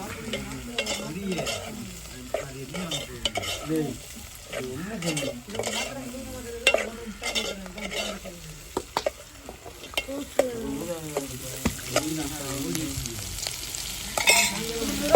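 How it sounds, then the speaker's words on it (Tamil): Four or five chopped onions fry in a pan for a dried masi fish dish, with a continuous loud sizzle and frequent clattering scrapes of a spoon stirring them. "வெங்காயத்தை நல்லா மசிஞ்சு வளர்க்கணும்"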